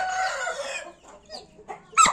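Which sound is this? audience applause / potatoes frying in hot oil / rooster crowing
rooster crowing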